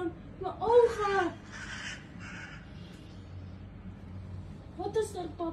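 An angry crow caws at a cat, with a loud burst of harsh, repeated caws close by, a quiet pause, and then another short cawing burst near the end.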